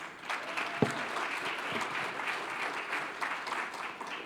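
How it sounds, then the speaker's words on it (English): A conference audience gives a panel on stage a soft, even round of applause, a continuous wash of many hands clapping at moderate distance. "first give a round of applause to our panel"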